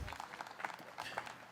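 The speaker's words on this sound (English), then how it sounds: "And you hear the clap." Brief burst of crowd clapping and cheering at a disc golf pro tour championship, scattered claps over a low outdoor rumble, fairly distant and short.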